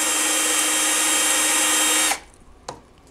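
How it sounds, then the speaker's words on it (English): A loud, steady power drill whine runs for about two seconds while drilling a small centering hole near a rivet on a Ski-Doo REV GTX snowmobile tunnel, then cuts off abruptly, followed by quiet and a brief faint knock. "I'm going to drill a small"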